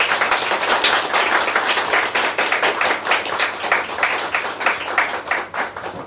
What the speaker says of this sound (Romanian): O rundă de aplauze